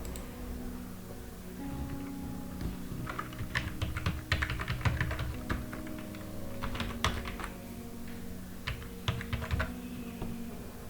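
Login details for the eSewa payment service are typed on a computer keyboard in a run of soft, irregular key clicks that are fairly quiet and close, with no talking.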